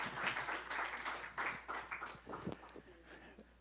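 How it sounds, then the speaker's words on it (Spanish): An audience at a testimony gathering applauds with a few seconds of steady crowd clapping, with voices mixed in. "Un aplauso para For my Jason."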